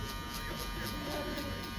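Electric hair clippers with a number one guard cutting a fade, giving a close, steady, even buzz that holds unbroken throughout.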